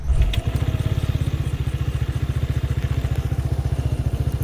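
A QJMotor Viento 180 motorcycle engine idles steadily up close, a rapid, even chugging pulse that continues throughout after a brief louder start, with no talking.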